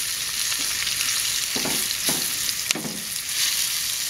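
Onions and peppers fry in a thin iron pan, a loud steady sizzle running throughout with a few stirring scrapes and clinks, close up and without speech.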